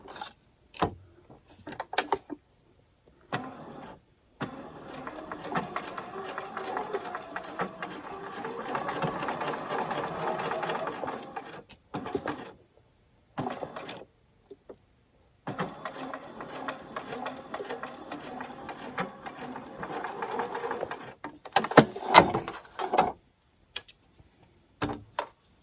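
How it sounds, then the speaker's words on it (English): Sewing machine running a straight stitch on a raglan thumbhole cuff, with bursts of rapid mechanical whirring and ticking separated by quiet pauses, heard close with no talking. "I backstitched at the start and stop"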